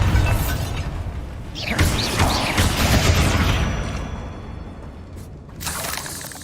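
A Bombarda blast spell in the video game Hogwarts Legacy: loud booming and shattering bursts, followed by crackling debris and a second sharp burst near the end.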